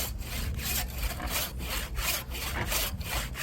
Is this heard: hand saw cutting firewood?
yes